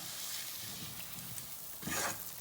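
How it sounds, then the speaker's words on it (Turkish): Chopped liver is sautéed with about two tablespoons of melted butter in a pan, giving a soft steady sizzle with light stirring scrapes that swell briefly near the end, no speech. "Şöyle iki yemek kaşığı kadar tereyağıyla biraz daha iyice kavuracağım"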